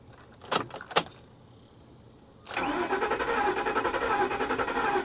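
Two sharp clicks, then the starter of a flood-damaged 2021 Kia K5 Turbo cranks steadily and loudly in a rapid rhythmic whir that runs on without catching.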